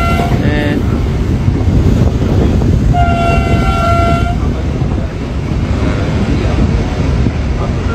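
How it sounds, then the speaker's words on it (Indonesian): A South Sulawesi passenger train rushes past loudly and close, its rumbling wheels and rushing wind filling the scene while its horn sounds briefly twice, with some voices underneath. "Ini kereta api Sulawesi Selatan baru ke Pangkep."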